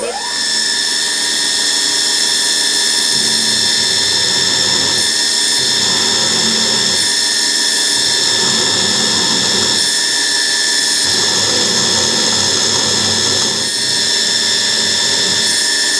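A power drill whines steadily as it bores a 3.2mm hole in metal, with a constant high-pitched tone and slight changes in load, running continuously without speech.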